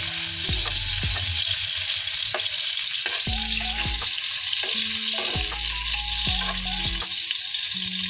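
Carrots sizzle steadily in a hot pan, a constant loud frying hiss with occasional clanks and scrapes of a utensil stirring, no voices.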